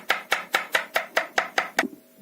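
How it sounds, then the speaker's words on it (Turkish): Rapid, even knife chops through garlic on a board, about eight crisp strikes close up, ending with a short scrape and quiet. "sarımsaklarımı küçük küçük doğrayıp"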